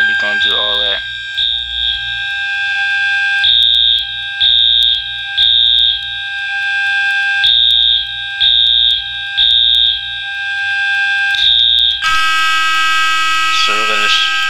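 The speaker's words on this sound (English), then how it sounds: "it was loud because of the simplex horns in the offices that kind of made it louder" Simplex fire alarm horns sound through a Roblox building's offices, blaring a loud, steady pulsing pattern for the whole stretch; a voice talks briefly under the horns near the start and again near the end.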